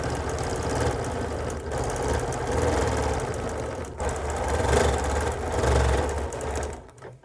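A sewing machine stitches a quilt in a steady, continuous mechanical whir with a fast rhythmic hum, running close and loud throughout before stopping near the end.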